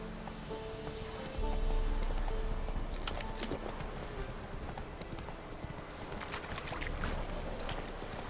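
A horse gallops in The Witcher 3, its hooves drumming a rapid, steady clip-clop that sits close and fairly loud over an outdoor ambience.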